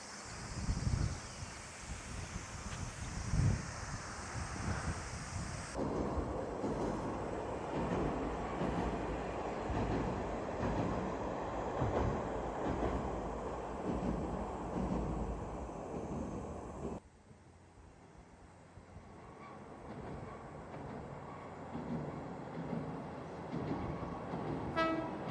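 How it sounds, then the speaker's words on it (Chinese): An electric train runs along the Yodo Line in Kochi, Shikoku, rumbling steadily past at close range with rail clatter for most of the stretch before easing off, while wind buffets the microphone and no one speaks. "可能电车快来了吧。"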